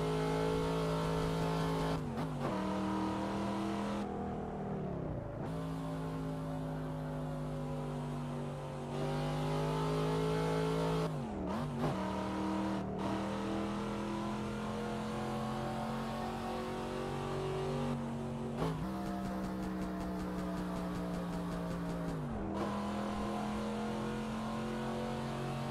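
A car engine in the Assetto Corsa racing game's traffic mode revs hard through repeated gear changes, its steady mid-pitched drone climbing and dropping with each shift. The engine is loud and continuous, with no talking.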